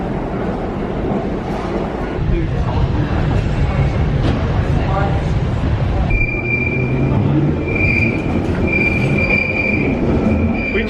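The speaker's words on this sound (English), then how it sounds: "We've just been on the squeakiest underground train of all time" London Underground train wheels squealing on the rails, a loud rumbling carriage with high, piercing screeches that grow stronger partway through, heard from inside the train.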